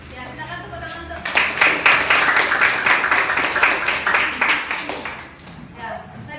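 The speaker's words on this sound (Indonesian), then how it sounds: "Ya, silakan tepuk tangan untuk." A primary school class claps together in a classroom, a sudden burst of brisk, close clapping that holds steady for about four seconds before tapering off, with a teacher's voice before and after.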